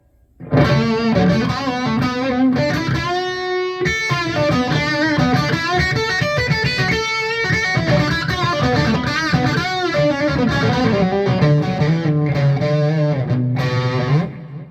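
A G&L G-200 electric guitar on its bridge pickup, played through an amp's orange channel with a distorted heavy blues tone: sustained chords and bluesy lead lines, loud and continuous, with no voices.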